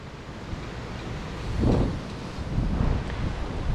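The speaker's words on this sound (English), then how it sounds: "it's around like, you know, 155 miles per hour wind" Hurricane Ian's roughly 155 mph winds roar across a neighborhood, a continuous heavy rushing with buffeting gusts that swell louder midway, loud and enveloping with no speech.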